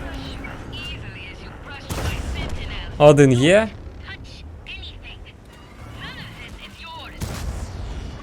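Two heavy booming tank-gun shots from a Waffentrager auf E 110 in a game, spaced several seconds apart, with a high, warbling engine-like whine and someone speaking briefly between them.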